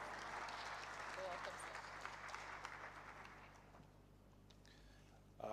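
A crowd applauds at the official launch of the Citizens' Assembly at Aso Villa in Abuja, a broad wash of clapping that fades out over several seconds, quiet overall with a faint hum beneath.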